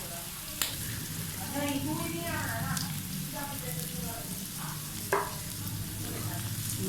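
Vegetables with grated cabbage and carrots stir-frying for chicken chow mein, a constant crackling sizzle with a couple of spatula knocks and a faint voice murmuring underneath.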